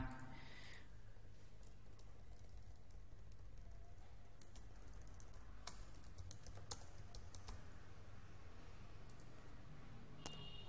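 Steady typing on a computer keyboard while drafting an official invitation document, a fast, even clatter of keystrokes with occasional sharper taps, faint and close, with no voices.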